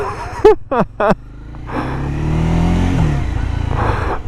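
After a few short vocal bursts, a small motorcycle engine, like a big Honda Grom motor, revs up and holds a buzzing drone, loud and close.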